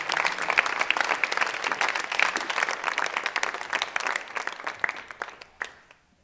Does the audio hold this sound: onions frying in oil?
no